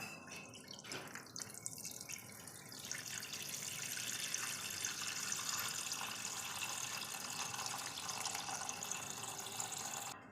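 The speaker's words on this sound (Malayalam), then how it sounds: "നമുക്കൊരു 1/2 ലിറ്റർ പാലെടുക്കാം." Half a litre of milk pours into a vessel in a kitchen, a soft, steady trickling stream that starts after a few faint clinks and continues quietly without talk.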